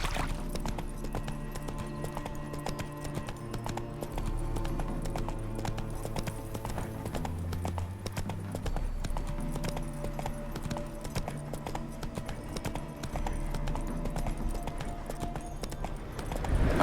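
Roach, Geralt's horse in The Witcher 3 video game, trots with a steady, continuous clip-clop of hooves alongside a background music score, no speech.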